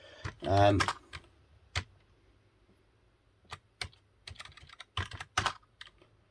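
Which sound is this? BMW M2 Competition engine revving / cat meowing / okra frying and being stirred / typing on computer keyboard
typing on computer keyboard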